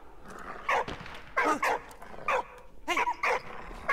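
A dog barks in the Xbox One video game Soldats Inconnus, giving several sharp, fairly loud barks in uneven bursts across a few seconds with no talk over them.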